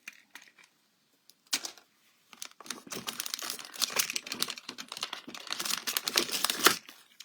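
Craft adhesive tape being changed in a refill dispenser, a run of crinkly plastic rustles and small clicks up close, sparse at first then busier and steady, with no talking.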